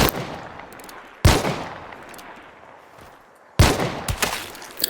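Lamat carbine shots in Hunt: Showdown 1896, three sharp, loud reports spaced a couple of seconds apart, each followed by a long echoing tail that fades into the background.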